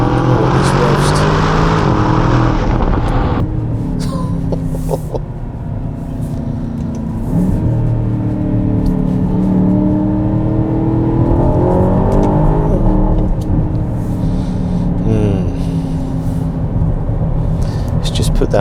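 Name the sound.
SUV engine revving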